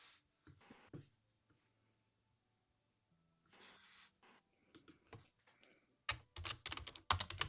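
Bursts of rapid clicking keystrokes on a computer keyboard, quiet and close, starting and stopping irregularly and growing busier toward the end.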